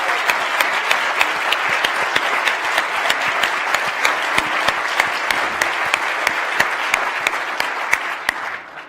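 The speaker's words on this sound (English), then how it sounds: "So how about a round of applause?" A lecture audience at the University of Minnesota gives a sustained round of applause, dense steady clapping from many hands filling the room for several seconds before it tapers off.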